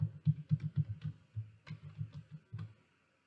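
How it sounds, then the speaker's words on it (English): A computer keyboard is typed on with a quick run of soft, close key taps in two short bursts separated by a brief pause, then quiet, with no talk. "here we can type in Business Source Complete"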